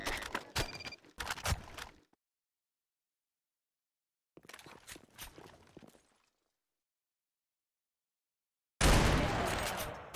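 Bursts of rapid gunfire in a video game, several short volleys separated by silences, ending in a loud, close blast.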